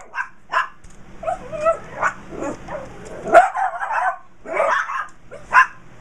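A dog barks repeatedly in short, sharp bursts at close range, with a few higher yips mixed in, outdoors during a metal-detecting outing.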